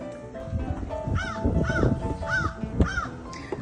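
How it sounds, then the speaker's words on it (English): Several crows cawing loudly at a KOA campground in Mt Pleasant, South Carolina, a string of about five harsh caws in quick succession close by. "Okay, what do we do about these crows?"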